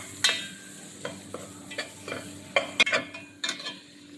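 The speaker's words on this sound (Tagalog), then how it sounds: "Tapos haluin natin." Beef is stirred in a pan with bell pepper, onion, garlic and tomato, giving a soft sizzle broken by a series of scraping, clinking strokes spaced irregularly at close range.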